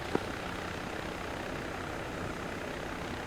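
A helicopter in the Arma 3 video game produces a steady, dense rotor and engine roar that holds at an even level throughout, with one brief click near the start.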